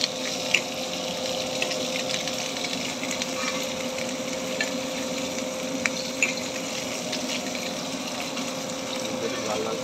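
Eggs frying in oil in a pan, a dense steady crackling sizzle running continuously and close, with a few sharp pops and clicks and some faint background voice.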